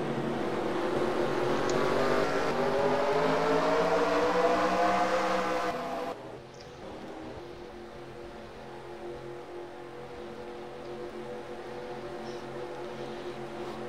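A pack of stock cars roars around the Dover track in the racing game NASCAR Racing 2003, engines droning loudly with rising pitch before the sound drops to a lower, more distant hum.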